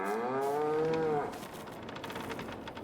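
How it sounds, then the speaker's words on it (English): A cow on a farm in a farming video game lets out one long, loud, close moo lasting about a second, followed by quiet rustling farm ambience. "Let's go down the hill here and check on our cows and see how they're doing."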